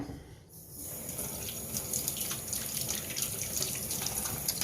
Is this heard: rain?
no